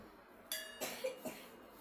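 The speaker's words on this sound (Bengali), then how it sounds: "আমার আর বিড়ালের বাচ্চা কাশতেছে" A kitten with a cold gives a few short, quiet coughs in quick succession, close by, with faint background hiss and no talking.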